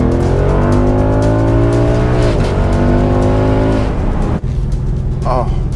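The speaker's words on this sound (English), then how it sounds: "The 10-speed automatic is kicking down. It's just kicked down from 7th to 4th." A Ford Mustang GT convertible's V8 engine roars loudly and rises steadily in pitch, drops abruptly as the 10-speed automatic kicks down, then climbs again with a faint squeal near the end.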